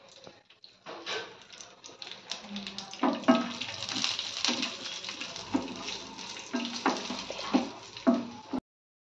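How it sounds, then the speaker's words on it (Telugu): Water poured from a cup into a pan to make sugar syrup for boondi laddu, splashing in uneven bursts with light clinks, up close. "ఇప్పుడు ఈ కప్పుతోనే వాటర్ వేస్తాను"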